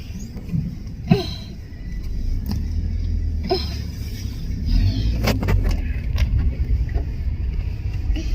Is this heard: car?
yes